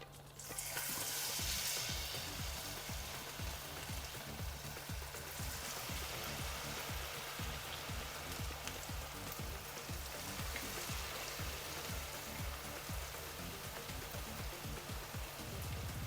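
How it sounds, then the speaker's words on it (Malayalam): Onion and potato vada batter dropped into hot oil on a medium flame, sizzling and crackling steadily and loudly close up throughout, with a sharp burst of hiss at the start and no talking. "ഇനി ഈ ചൂടായ എണ്ണയിലോട്ട് ഇത് ഇട്ട് കൊടുക്കേ"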